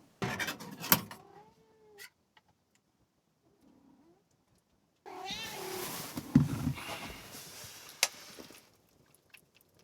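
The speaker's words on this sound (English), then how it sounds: "A hungry cat." A hungry domestic cat meows indoors in a few separate drawn-out calls, fairly close and moderately loud, with quiet gaps and light household clicks between them.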